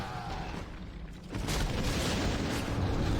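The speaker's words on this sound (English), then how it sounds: "That was a lot of barrage. Happy's Gargs getting sniped by fireworks." Warcraft 3 battle with artillery barrage and fireworks attacks hitting undead gargoyles, a dense roar of booming explosions and crackling impacts that swells louder after the first second and keeps rumbling continuously to the end.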